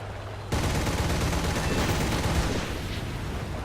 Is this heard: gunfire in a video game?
yes